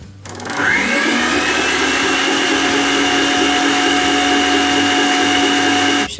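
Electric mixer whipping chantilly cream for a Danoninho-style filling, a steady loud motor whine starting after a brief pause and running continuously for about five seconds before cutting off, with no talk over it.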